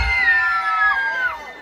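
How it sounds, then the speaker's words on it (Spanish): Spectators at a clown show during patronal festivities in La Esperanza, 2022, shout and cheer together in a loud, sustained burst of high, children-heavy voices that wavers briefly and then fades slightly toward the end. "Solo levanto la mano y todos gritan."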